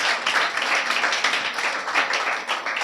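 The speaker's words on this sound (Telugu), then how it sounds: "చప్పట్లు కొట్టాం సార్, చప్పట్లు కొట్టాం" A church congregation at a Telugu sermon claps together in a short burst of brisk, fairly close applause, steady throughout with no voices over it.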